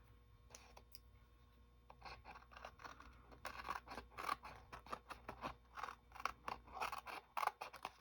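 Scissors trimming paper for a trifold tag, a run of close, crisp snips in irregular rhythm that grows busier after a few quiet seconds of faint handling.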